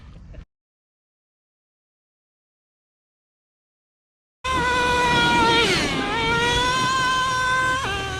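Traxxas T-Maxx Classic RC truck with a two-speed transmission starts up loudly after a pause, its nitro engine revving high and climbing before a gear shift drops the pitch, close and continuous.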